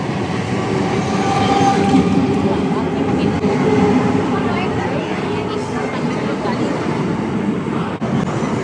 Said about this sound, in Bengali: তো দেখো, ট্রেন আসছে, আমাদের ট্রেন ঢুকে পড়েছে।